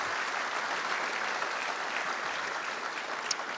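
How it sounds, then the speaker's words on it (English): An audience in Charlotte applauds a professional golfer guest, a dense, steady wash of clapping that holds at an even level throughout with no voices over it. "give yourselves a round of applause"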